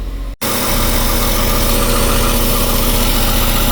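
A Westerbeke boat engine on a Boston Whaler, warmed up after running a while, rumbles in a loud steady idle with a pulsing low throb, starting abruptly after a brief quiet moment.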